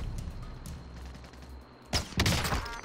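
Gunfire in the battle royale game Warzone, a couple of sharp, loud shots cracking out near the end after a quieter stretch of ambient game noise.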